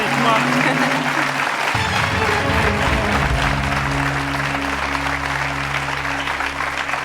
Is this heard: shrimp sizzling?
no